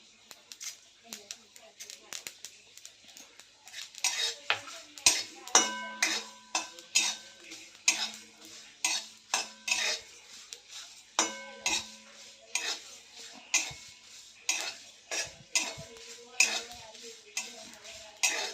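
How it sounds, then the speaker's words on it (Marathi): Green chilies, cumin and coriander seeds, with sesame, dry-roasting together in a pan while being stirred: steady, rhythmic scraping strokes of a spoon on metal with a faint sizzle, and someone speaking over it. "यामध्येच मी मिरच्या पण टाकते हे पण याच्याबरोबर भाजले जातील आणि यामध्येच आपण जिरे आणि धने पण टाकूयात म्हणजे सर्व एकत्र भाजले जातील"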